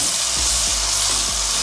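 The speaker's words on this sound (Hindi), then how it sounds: "अच्छा से हिला के थोड़ा फ्राई करना पड़ेगा" Fish coated in mustard paste fries in a pan with a dense, continuous sizzle, broken by several soft scraping knocks as it is stirred.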